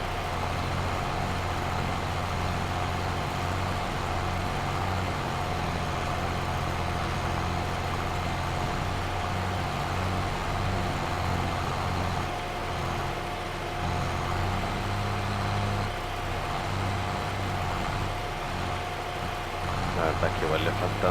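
A tractor engine in the farming game Farming Simulator 22 drones steadily and loudly throughout, a constant low rumble straining under load, with speech over it.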